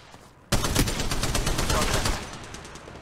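Rapid automatic gunfire in Apex Legends erupts after a brief quiet start, a loud sustained burst of shots that tapers near the end.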